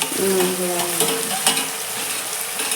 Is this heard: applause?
no